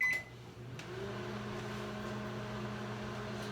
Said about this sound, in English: I'll do it in my microwave since I've got one